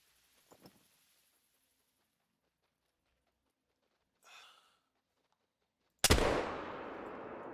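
A single loud muzzle loader shot in the hunting game theHunter: Call of the Wild, a sharp blast followed by a long rolling decay, preceded by faint rustles and a soft breath in near silence.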